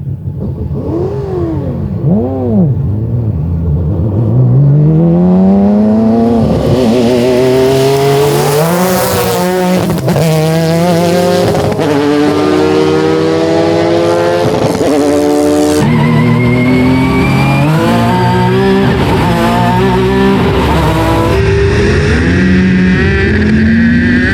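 A Ford Falcon V8 supercar and a Nissan 350Z Super GT car roar through a roll race, loud revving engines climbing through gears with rising and falling pitch and repeated shifts, no voices.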